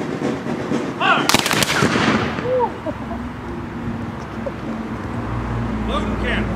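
Rifle volley from a ceremonial firing party at a Confederate memorial dedication in Texas: one loud, sharp, ragged crack early on, then rolling echoes that fade under crowd ambience.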